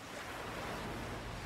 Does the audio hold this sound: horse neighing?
no